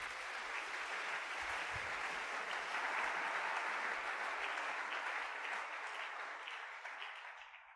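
A church congregation applauds in a steady, dense wash of clapping that holds for several seconds before starting to thin out at the end, with no speech over it.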